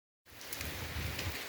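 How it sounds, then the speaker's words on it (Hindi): Steady rain falling during a thunderstorm, a dense broadband hiss that starts abruptly after a moment of silence and continues evenly, close and moderately loud, with no one speaking. "हमारी तरफ बारिश हो रही है, आप देख सकते हैं।"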